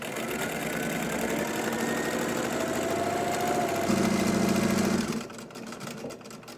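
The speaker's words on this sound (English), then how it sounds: "So I'm just sewing to the edge, putting that needle down, turning it around, press her foot down" Sewing machine stitching a fabric mask, a fast steady mechanical whirring hum with a rapid needle rhythm that runs for about five seconds and then stops.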